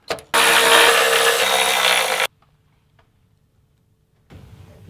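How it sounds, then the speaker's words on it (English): A power tool whirs loudly for about two seconds as skid plate bolts holding up the gas tank guard come off a Toyota 4Runner, followed by near silence and a faint clatter. "We're going to remove 3 bolts that hold the skid plate up for the gas tank"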